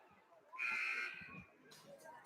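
A referee's whistle blows once, a sharp shrill blast lasting about half a second to stop play in an ice hockey game, followed by rink noise and a commentator's voice.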